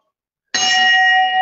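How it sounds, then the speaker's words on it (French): A small bell at a Jain temple in Bikaner, India, strikes once after silence and rings on with a bright, sustained metallic tone, loud and close, fading only slightly. "C'est une sonnette de Dieu pour lui prévenir que nous sommes arrivés."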